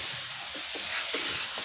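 Pork frying in a pan, a steady close sizzle with the faint scrape of stirring now and then. No one speaks.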